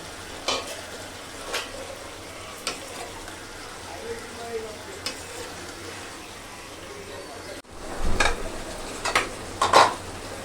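Mixed vegetables cook in a pan in a Bangladeshi home kitchen, a low steady sizzle with occasional stirring knocks, then a louder burst of clattering and frying as pumpkin and eggplant go in near the end.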